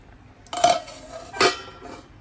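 Two metal clanks of a lid set onto a pot of mackerel curry simmering in a Kerala-style kitchen, one around the half-second mark and a second sharper clink a moment later, close and fairly loud with no talk.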